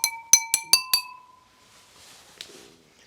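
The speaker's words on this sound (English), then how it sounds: "let's put them all side by side, and then we'll do a stir test" Five quick, bright glass clinks ring out in a steady rhythm as water is stirred in a row of glasses, each strike leaving a clear sustained tone that slowly fades, followed by soft faint handling noise.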